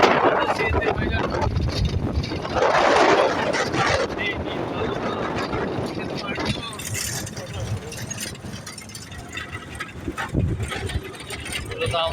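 A CNG auto-rickshaw carries passengers toward hilly country near Mirsarai, its engine a buzzing drone mixed with wind rush and rattling, while people talk over it.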